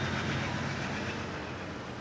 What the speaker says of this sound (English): You're waiting for a train to pass